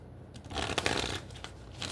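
A deck of tarot cards is shuffled close by in a steady papery riffle for two seconds, with no voices over it.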